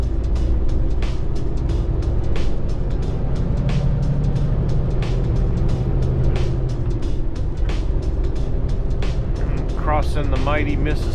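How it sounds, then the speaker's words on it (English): A heavy delivery truck pulls along the road, its engine and road drone filling the cab as a loud, steady rumble throughout, with a faint voice briefly heard near the end. "Come on, truck, pull."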